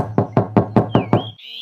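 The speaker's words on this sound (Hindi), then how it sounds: "फिर से बकरी के घर का दरवाजा खटखटाने लगता है" Six evenly spaced, loud knocks on a wooden door in a children's cartoon story, a steady hum under them and a brief high whistle-like tone at the end.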